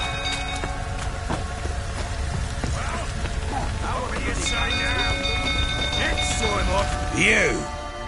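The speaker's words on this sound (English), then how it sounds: "Looks like rain." Steady rain in The Witcher 3 hisses over a busy scene, with scattered clinks and chirping sounds on top and a voice briefly rising near the end.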